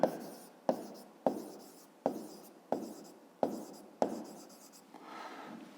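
A pen scratches across paper while working a fifth-grade maths exercise, about seven distinct strokes in a steady rhythm, close and clear with no talking.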